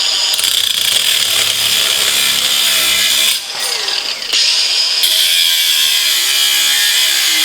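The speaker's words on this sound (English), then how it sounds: "I'm going to weld this as straight as I can" Steady, loud, harsh crackling buzz of welding on a Ski-Doo rail mount ice scratcher, close up, with a brief dip in the middle before the arc hiss resumes; no talk.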